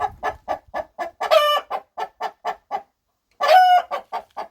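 A hen clucks after laying an egg, in a steady, rhythmic series close by, broken twice by loud, drawn-out squawking cackles. No one speaks.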